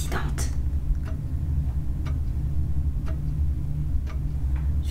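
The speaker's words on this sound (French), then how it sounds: "le bruit de l'horloge" Steady ticking of a clock in a house in the VR horror game Paranormal Activity VR, faint regular ticks about once per second over a low ambient hum, with a voice talking intermittently.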